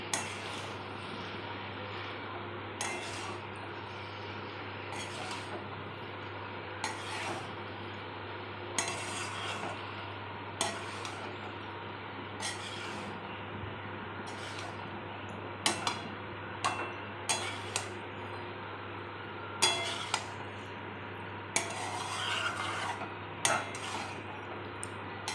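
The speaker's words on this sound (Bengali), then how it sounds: "ভেজে রাখা ডিম সব দিয়ে ভালোভাবে মিশিয়ে নেব।" Pasta tossed with fried eggs in a pan, with quiet scattered clinks and scrapes of a utensil against the pan over a low steady hum, no talking.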